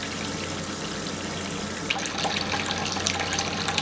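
Water pours into a bowl from a bottle of carbonated mineral water and from a tap, a steady hiss that turns brighter and more splashy partway through, heard close with no talk.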